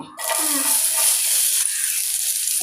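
Onion pieces dropped into hot oil with mustard seeds in a home kitchen for a potato mezhukkupuratti, setting off a loud, steady sizzle that starts abruptly and continues without talk.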